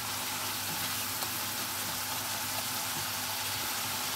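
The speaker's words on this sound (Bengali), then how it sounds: "এটা একটু টাইম নিয়ে ভেজে নিতে হবে।" Raw onion paste frying in a pan, a steady, even sizzle with a low background hum and no other sounds.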